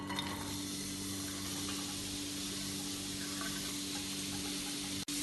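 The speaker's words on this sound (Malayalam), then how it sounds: "2 സവാള നേർത്തതായി മുറിച്ചത്, കുറച്ച് കറിവേപ്പില, ഒരു പച്ചമുളക് മുറിച്ചത്, 5 അല്ലി വെളുത്തുള്ളി ചെറുതായി മുറിച്ചത്, ഒരു കഷ്ണം ഇഞ്ചി ചെറുതായി മുറിച്ചത്, ഇതെല്ലാം കൂടെ ഈ ചൂടായ നെയ്യിലേക്ക് ഇടാം." Sliced onion, curry leaves, green chilli, garlic and ginger frying in hot ghee, giving a steady, close hiss and sizzle that holds evenly throughout.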